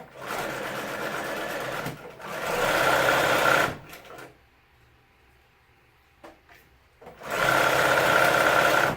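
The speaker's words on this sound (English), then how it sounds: "I'm going to lift my presser foot and turn. And then continue stitching." A sewing machine stitches a palazzo pants pocket in three loud close bursts of rapid whirring, separated by a quiet pause with small handling clicks while the fabric is turned.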